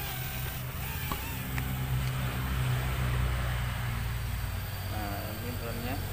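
A steady mechanical hum with a high buzzing whine of small propellers from a KY902 mini drone taking off, continuous and close, with brief speech.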